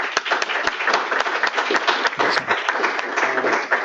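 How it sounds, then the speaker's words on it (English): Applause from a meetup audience after a machine learning and computational design presentation: dense, steady clapping from a room of people, close and fairly loud, running on without any talk. "Let's give him an applause"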